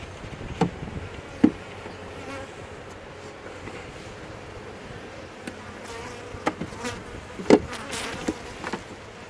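Bees buzzing around an open beehive during an inspection, a steady close drone with occasional louder passes and faint clicks of frames being handled.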